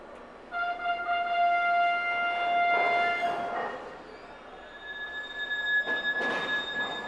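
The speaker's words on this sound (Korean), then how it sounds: "열차가 거대한 페리 속으로 삼켜지는 모습을 직접 목격하게 되겠죠" A train rolls onto a ferry in Sicily, its wheels squealing in long, sustained high-pitched tones over a steady rumble, with louder screeches bursting through near the middle and end.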